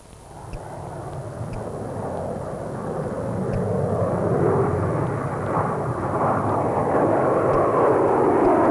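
A Grumman F-14 Tomcat, the U.S. Navy carrier-borne fighter, roars continuously at Miramar, California, its broad jet rumble swelling gradually louder over several seconds without any speech.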